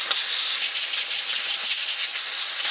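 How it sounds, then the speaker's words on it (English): Compressed air sprays in a steady, loud hiss into an NES game cartridge that gives a black screen, a continuous close-up blast lasting a few seconds with no talk. "use this, some of this compressed air."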